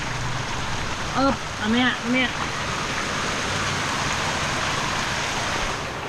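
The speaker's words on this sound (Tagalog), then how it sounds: "Umaraw, umuulan." Steady rain falls outdoors during a sunshower at a wooden boat-building site, a continuous broadband hiss throughout with a few brief spoken syllables near the start.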